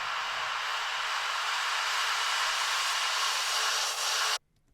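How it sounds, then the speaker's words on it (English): A bright, steady white noise sweep from an electronic psytrance-style production holds at constant loudness for about four seconds, then cuts off abruptly into near silence. "And then we just got some effects here, white noise effects."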